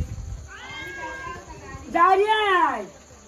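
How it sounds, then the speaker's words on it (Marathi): A cat in Kombli village in the Konkan region meows twice at night, a shorter call followed by a louder, drawn-out one, heard close over quiet background. "आता दुसऱ्या घरात मांजरा आता आपल्या कोंबली गावात जास्तीच आहेत."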